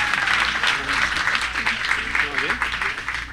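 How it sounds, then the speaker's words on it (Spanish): Applause from a gathered church audience, moderately loud and continuous for a few seconds, with a voice speaking over it. "Les presento a María Jimena, un aplauso para ella."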